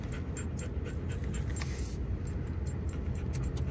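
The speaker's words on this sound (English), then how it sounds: "You hear Argo panting" A dog pants in quick rhythmic breaths close by, over a constant low rumble like passing traffic or wind.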